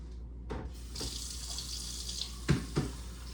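A cup of water poured into a pot while preserving farmers market produce: a faint, soft hiss of pouring followed by a couple of small splashy knocks.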